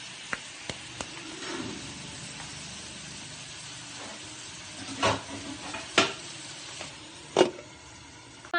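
Pork for sisig frying in a covered pan, giving a soft steady sizzle with scattered sharper pops and crackles at moderate distance, no talk.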